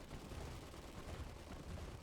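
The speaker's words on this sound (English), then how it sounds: "So she bombards from the top cannon when she does it." Heavy bombardment in the Iron Harvest 1920 game, a mech firing shells from its top cannon: a dense, continuous barrage of booming blasts and rumble that stays loud throughout with no pauses.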